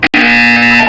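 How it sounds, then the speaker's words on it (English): A loud, harsh electronic buzzer from the Portal 2 video game, a single sustained blare lasting under a second after a brief clipped start. "When you hear the buzzer, look down at the floor."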